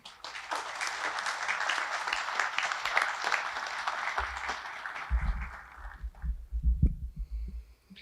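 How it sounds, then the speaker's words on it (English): Applause rings out from the audience for graduates of the U.S. Army War College Distance Education Class of 2022, a sustained wash of clapping that fades out, followed by low thumping and rumbling noises near the microphone. "Let's give them a round of applause, please."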